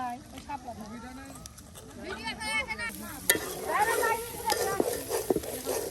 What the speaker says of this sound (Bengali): প্রায় আধা ঘন্টা সময় ধরে কিন্তু এটা ভাজা হচ্ছে